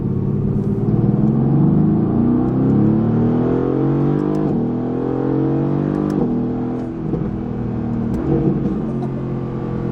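Mercedes-AMG GT R engine pulling under acceleration while driving in winter, a loud, steady, throaty drone with rising harmonics that ebb and climb across the run, close up from inside the car.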